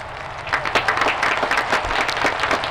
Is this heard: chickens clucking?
no